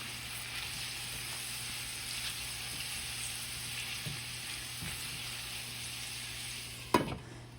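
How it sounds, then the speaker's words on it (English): Honey-glazed carrots sizzle steadily in a pan as they are stirred, an even close frying hiss with faint scrapes and a sharper utensil clack near the end. "Just adding some honey. I want to stir that right away so it doesn't burn"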